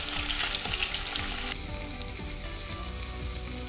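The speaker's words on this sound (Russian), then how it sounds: "Обжариваем их со всех сторон на сильном огне до образования румяной корочки" Pork ribs frying in a pan over high heat, a steady dense sizzle and crackle with small spattering pops, close and continuous throughout with no talking.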